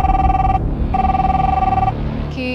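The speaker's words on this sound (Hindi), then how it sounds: "फोन कॉल आती है" A telephone rings loudly with an electronic bell tone in two bursts separated by a short pause, followed by a brief different tone, with no voices.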